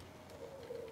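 A pigeon coos in the Spider-Man Remastered video game, a short soft low warble that is faint and heard alone.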